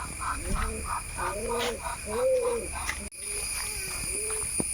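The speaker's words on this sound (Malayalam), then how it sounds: "പ്രാവ് അടിക്കൂടെ നടക്കുന്നുണ്ട്." Pigeons coo repeatedly nearby, soft throaty rising-and-falling calls in a loose rhythm over faint background noise.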